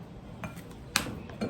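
Half a tablespoon of soya bean powder tipped from a spoon into a cup, giving a few light metallic clinks and taps, one sharper knock near the middle, all soft and close.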